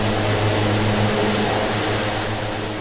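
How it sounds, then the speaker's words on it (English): The engines of a Twin Otter in a flight simulator game give a loud, steady roar with a low droning hum that holds constant throughout the clip, with no talk. "that's a noisy airplane"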